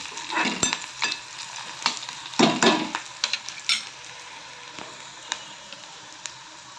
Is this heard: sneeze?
no